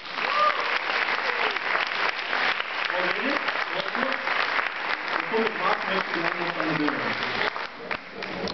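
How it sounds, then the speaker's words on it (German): Sustained applause from an audience at an anti-racism event in Aachen, a steady dense clatter of many hands lasting the whole stretch, with some voices murmuring underneath. "Nochmal einen riesen Applaus für alle, bitte."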